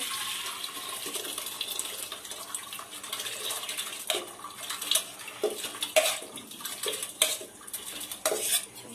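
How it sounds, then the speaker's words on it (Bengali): Khichuri being poured and scraped into a pressure cooker, with wet sloshing and repeated metallic clinks and knocks of a spoon against the pot, fairly close and without talk. "এবারে আমরা প্রেসার কুকারে ঢেলে নেব।"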